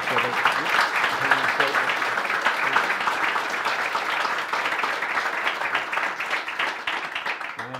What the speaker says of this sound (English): A round of applause, I think, for this.